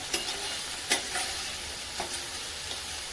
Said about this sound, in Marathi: आता कांदा आणि सर्व साहित्य व्यवस्थित परतून घेऊया.